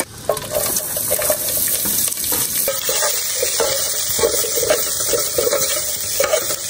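Rice and vegetables stir-fried in a kadhai: a constant loud sizzle with repeated scraping and stirring strokes of a spatula against the pan, close up and steady throughout, with no talking.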